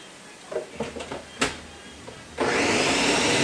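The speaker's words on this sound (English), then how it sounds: "So I'm going to throw this into our blender" A few knocks and clatters of peppers being dropped in, then a blender kicks on with a loud, steady whirring roar.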